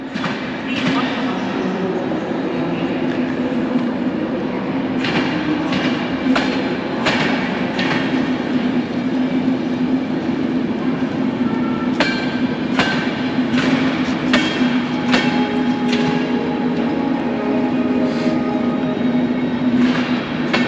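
A train rolls steadily into a Budapest station with a low mechanical hum, rhythmic clacks and metallic clanks over the rails, with faint voices in the background.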